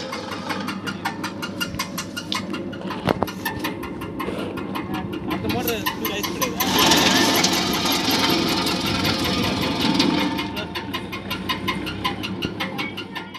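A groundnut separator machine driven by a 0.5 hp electric motor runs steadily with a rapid mechanical clatter, growing louder and rougher in the middle stretch before settling back to its even rhythm.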